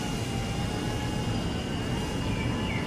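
A DJI O4 Lite microdrone in flight gives a continuous, even whirring drone of small propellers, loud and close with no breaks over the whole stretch.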